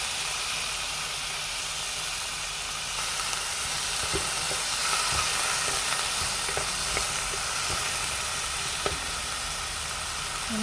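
Tomato, onion and garlic frying in a pan for a Kerala prawn curry, a soft steady sizzle and hiss with occasional light stirring taps, fairly quiet and close, no talk.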